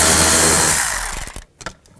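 A power tool fitted with a 5mm socket backs out speaker screws from the door of a 2009-2018 RAM 1500 truck; a close, loud whir winds down within a second, followed by a few sharp clicks and rattles.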